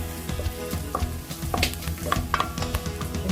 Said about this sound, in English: now I also fry the onion because I want to make wet fried